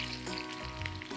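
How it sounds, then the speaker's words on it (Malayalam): Sliced shallots frying in oil with popping mustard seeds, a brief close steady sizzle with small crackles. "നമുക്കതിലേക്കൊരു 3-4 ചെറിയുള്ളി സ്ലൈസ് ചെയ്തത്"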